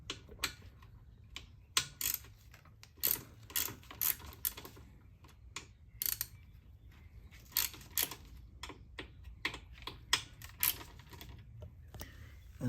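A 1/4 Allen socket loosens pinch bolts on the lower triple tree of a Harley-Davidson Road Glide Special, producing a run of quick, irregular clicks and ticks up close, with brief pauses between bursts and no speech.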